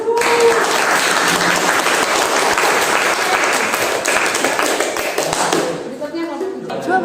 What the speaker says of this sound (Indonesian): Mari kita beri aplaus ya.